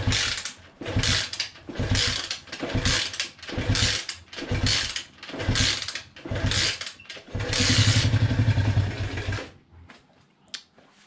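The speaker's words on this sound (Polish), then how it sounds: "Łańcuszek coś słychać." Loncin 125 motorcycle engine with an audible timing chain, giving off a loud, rhythmic mechanical clatter in repeated bursts, then a steadier run before dropping away to near silence.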